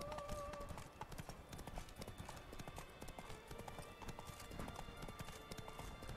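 Horse hooves clip-clopping at a steady riding pace in the video game The Witcher 3: Wild Hunt – Blood and Wine, a continuous rhythmic clatter with game music or tones underneath.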